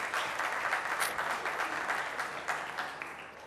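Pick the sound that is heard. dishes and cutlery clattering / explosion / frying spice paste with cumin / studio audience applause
studio audience applause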